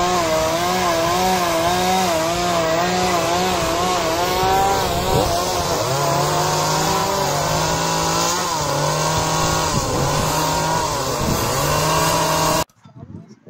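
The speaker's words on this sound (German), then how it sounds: "Hier haben zwei Männer Skulpturen mit ihrer Motorsäge hergestellt." Chainsaws carving wooden sculptures at a medieval-style fair, a loud continuous two-stroke engine snarl rising and falling as the throttle is worked, close by, before cutting off abruptly near the end.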